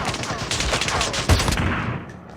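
Gunfire in a shooter video game: rapid bursts of shots crackle continuously at close range, with one sharper heavy blast near the end, while voices talk faintly underneath.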